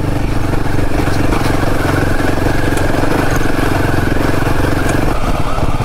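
A Himalayan 450 motorcycle ridden off-road on a rough trail, its engine a loud, steady drone with a rattling, clattering edge that holds constant throughout.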